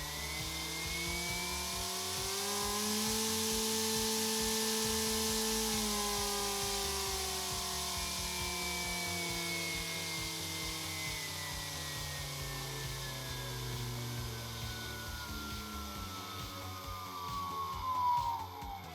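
RC propeller motor rated 1100kV running on a 3S LiPo battery, a steady whine with tonal harmonics that slowly glide up and down as the throttle shifts, loud and sustained throughout.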